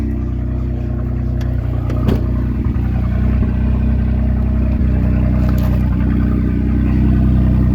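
An old truck engine with no muffler idles loudly and steadily up close at an auction, a rough continuous low rumble from the open exhaust.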